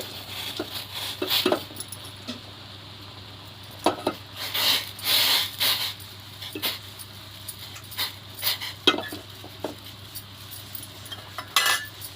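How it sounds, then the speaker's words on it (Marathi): Jaggery being crushed into small pieces for a homemade village herbal decoction. Irregular hard knocks and clinks come in scattered bursts over a low steady hum, close by and with no talking. "गुळ पण जरा बारीक करून टाकूया"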